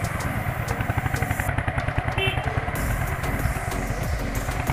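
Four motorcycles on an afternoon group ride produce a steady, close engine drone with a rhythmic low thrum and some clatter, holding at an even level without breaks.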